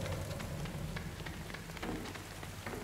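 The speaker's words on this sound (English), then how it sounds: "the rain sounds just amazing" Rain in the game DARQ falls as a steady, soft patter on surfaces, with scattered close droplet taps over a constant hiss, fairly quiet and uninterrupted.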